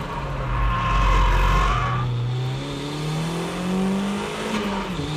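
A drift car heads into a corner as the driver eases off the brakes. The close, loud engine note drops, then climbs again as it rises in pitch, with faint tire noise underneath.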